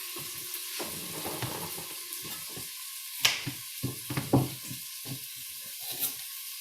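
Celery tossed into a hot pan gives a quiet, steady sizzle, broken by scattered clicks and scraping knocks from stirring.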